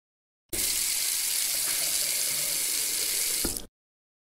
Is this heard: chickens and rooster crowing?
no